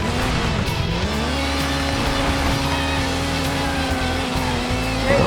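Rally car racing in Sega Rally on the Sega Saturn, a loud steady engine tone that climbs and shifts pitch with gear changes, alongside tire noise.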